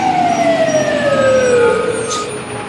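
A fire engine's siren wails as the fire department arrives at an emergency scene, loud and close, with a long descending tone over truck engine rumble and no speech.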